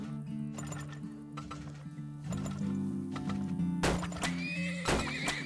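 Horses in the video game Turmoil neighing loudly with clip-clopping hooves, set over looping game music, with two sharp whinnies standing out near the end.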